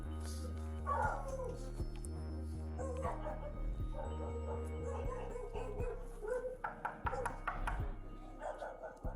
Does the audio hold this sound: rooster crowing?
no